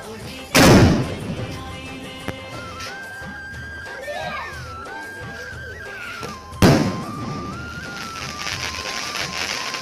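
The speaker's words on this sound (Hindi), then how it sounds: "अभी भाई लोग आसमान वाला बम फोड़ने जा रहे हैं" Two loud, sharp booms about six seconds apart from Diwali sky fireworks, each a sudden blast with a short rumbling tail, separated by quieter background noise and faint whistling tones.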